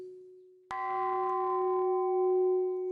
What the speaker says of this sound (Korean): 아침 공양을 알리는 낭낭한 종소리